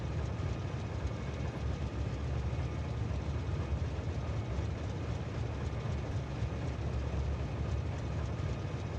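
Train running in the video game Factorio, a steady low rumbling drone of engine and rolling wheels, fairly quiet and continuous with no voices.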